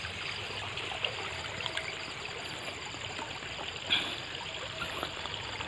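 Irrigation water running onto onion plants in a field, a steady rushing and trickling flow with a few splashy bumps, fairly close and continuous with no voices.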